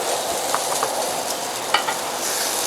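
Sausages grill on cast iron grates beside a pot of pasta, a loud, steady close sizzle and hiss with a few small pops and spits.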